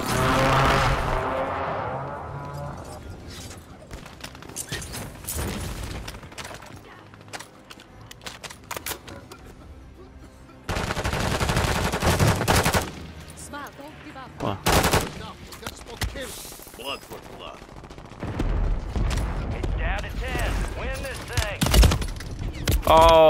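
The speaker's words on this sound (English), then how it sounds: "Is there people shooting at you guys?" Video game gunfire in Call of Duty, with loud rapid bursts and single shots that come in clusters, pausing and resuming, mixed with explosions and in-game noise while players talk.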